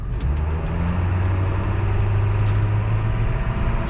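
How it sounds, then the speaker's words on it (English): An old Ford F350 dually with a 7.3 Powerstroke diesel engine idles close by, a steady, deep rumbling drone with a low, even throb. "It's a diesel truck. It's the beast. It's an old diesel."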